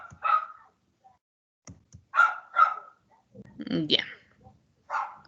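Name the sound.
neighbours' little dog crying during thunder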